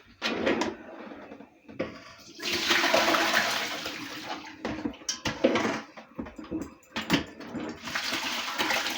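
Water from a pot of boiled eggs pours and drains into a kitchen sink in bursts, a steady rushing stretch in the middle with clattering and splashing around it, close and fairly loud, with no talk.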